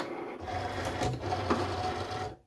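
A Cricut cutting machine slicing a sheet of black material whirs and scrapes mechanically, its carriage rasping back and forth with a couple of sharper clicks before stopping, close and fairly quiet.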